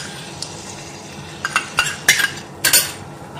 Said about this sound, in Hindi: और इसको चलाएंगे, चलाते रहेंगे जिससे ये फट ना जाए।